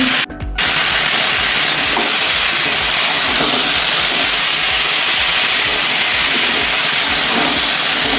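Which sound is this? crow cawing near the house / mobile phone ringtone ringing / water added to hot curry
water added to hot curry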